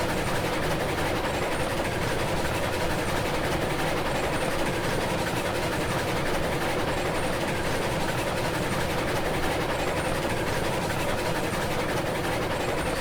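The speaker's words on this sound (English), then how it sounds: "I guess technically this was the iron ore train that I was using before to get all the iron ore down here." Iron ore train rolling along in the video game Railroads Online, a steady dense rumble of wheels and engine that holds continuously throughout with no talk over it.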